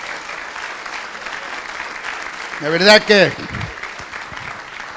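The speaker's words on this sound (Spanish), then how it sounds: "Denle un aplauso al Señor, que lo veo muy callado" Applause from a church congregation during a sermon on the sufferings of Jesus, a steady wash of clapping beneath a preacher's voice that rises in a brief loud exclamation midway.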